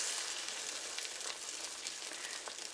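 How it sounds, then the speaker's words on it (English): Sprouted bread slices for French toast sizzle in a frying pan, a steady close hiss with small crackles and no voices. "just pick it up and plunk it in the pan"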